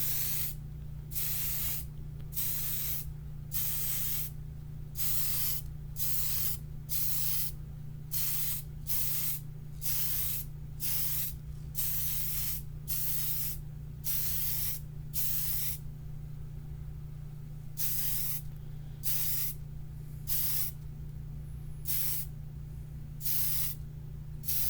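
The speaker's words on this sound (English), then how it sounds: "for now, we're going to spray some red. We're going to do our first coat" Short repeated hisses from a spray paint can laying a light red first coat on a Lexan RC car body, roughly a dozen evenly spaced bursts with brief pauses and a steady low hum underneath.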